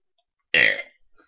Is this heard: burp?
yes